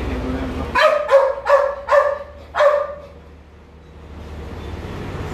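A large six-month-old dog, a daughter of a Dutch-bred dog, lets out five loud, close barks in a quick rhythmic series, then falls quiet over a low background hum.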